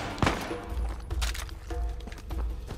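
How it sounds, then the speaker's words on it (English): Enemy machine gun fire in Uncharted 4 sounds as a mix of bursts and sharp cracks, moderately loud, with scattered heavy thumps between volleys. "here he got a machine gun."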